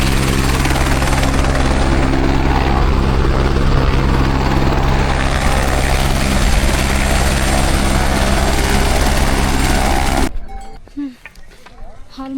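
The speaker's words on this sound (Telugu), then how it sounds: "హెలికాప్టర్ రైడ్ కూడా ఉంటుంది." Helicopter flying at Kedarnath on the pilgrimage shuttle ride, a loud steady rotor thrum and turbine whine close by for most of the stretch, then a sudden drop to quieter outdoor ambience near the end.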